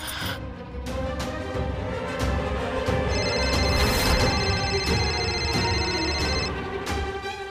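A phone rings with a bright electronic trill over busy background noise and music, the ring holding steady for a few seconds.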